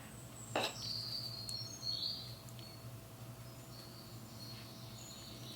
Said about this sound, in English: don't know if you can really hear those birds on the TV in the other room